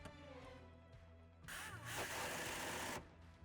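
A power drill drives a self-tapping screw into the body of a Fiat Grande Panda 2024 to fix a ground wire, giving one quiet, close, whining burst of about a second and a half amid faint workshop background.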